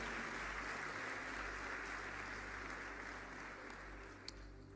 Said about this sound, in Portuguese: aplauda o nome de Jesus mais uma vez